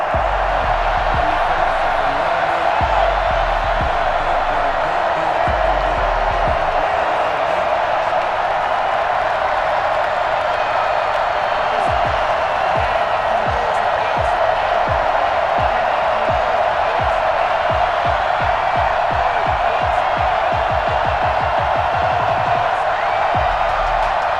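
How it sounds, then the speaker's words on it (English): Sold-out stadium crowd at Heinz Field in Madden NFL 21 roars in a steady, dense wash of cheering that carries on without a break throughout. "Big Ben Roethlisberger greeted by this sold-out Heinz Field crowd"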